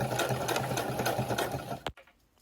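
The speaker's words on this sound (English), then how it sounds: "sewing with a 1/8 of an inch seam allowance with a back stitch at the top and a back stitch at the bottom" A sewing machine stitches a 1/8-inch seam with back stitches through fabric for a port pillow, running in a steady close whir that stops abruptly near the end, leaving quiet.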